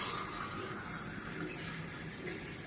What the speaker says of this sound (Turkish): 2 bardak arıtma suyu.